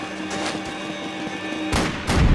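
Gunfire in the video game Max Payne 3: a steady din of shooting, then two heavy, loud bursts close together near the end.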